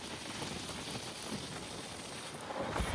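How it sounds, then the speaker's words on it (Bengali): Steady rain falling outdoors just after stepping out of the house, a dense even hiss of drops throughout, growing slightly heavier near the end, with no voices. "এখন বৃষ্টি শুরু হলো।"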